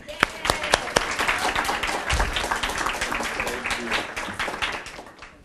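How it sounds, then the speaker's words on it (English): Applause at a community service awards ceremony for an honoree: a crowd claps steadily, with a few sharp individual claps standing out at the start before a dense, even patter that fades slightly toward the end. "so we applaud her"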